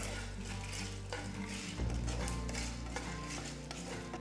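Red chilies, garlic cloves and sliced ginger roast in a pan for Chettinad egg curry, with a soft continuous sizzle and repeated scraping and clinking of a spoon against the pan, close and fairly quiet.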